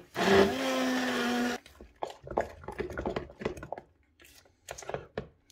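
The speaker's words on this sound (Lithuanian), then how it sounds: "Viską gerai su blenderiu pertrinu." A blender purees curd cheese in a short, loud, steady whir that cuts off after about a second and a half, followed by scattered clicks and knocks of kitchen handling.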